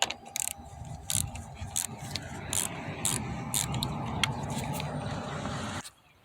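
A ratchet wrench clicks rapidly and steadily while loosening a car battery's negative terminal, close and metallic with brief pauses, over a low mechanical hum that cuts off abruptly near the end.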